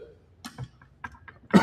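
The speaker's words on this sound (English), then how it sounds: "everybody's having to listen to me cough" A man gives a few short, close coughs and throat-clearing sounds, ending in one louder harsh cough.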